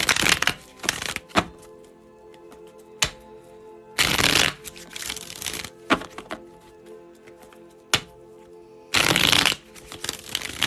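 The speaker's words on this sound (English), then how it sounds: "So let's do 3 more shuffles for Jamie." A deck of tarot cards is riffle-shuffled repeatedly at close range, with bursts of rapid fluttering snaps separated by quieter taps and handling of the cards.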